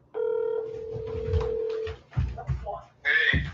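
A phone call goes out: a steady tone held for almost two seconds, then a few short dialing blips under a voice, and a bright ringing burst near the end.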